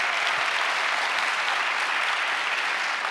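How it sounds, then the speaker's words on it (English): An audience applauds at a climate-focused talk event, a dense, steady wash of clapping from many hands that holds at an even, loud level throughout. "that deserves applause."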